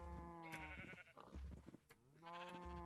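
Sheep bleating in the video game Minecraft (SkyFactory 3 modpack), two or three wavering, nasal bleats close by, separated by a brief gap of softer sounds, with no voices over them.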